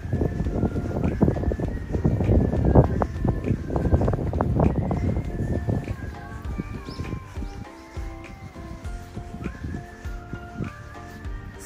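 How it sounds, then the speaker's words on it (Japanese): Wind blows outdoors in the open air around a cherry-blossom viewing area, buffeting the microphone with low rumbling gusts, while faint birdsong and soft ambient tones carry on in the background. "爽やかな風が吹いております。"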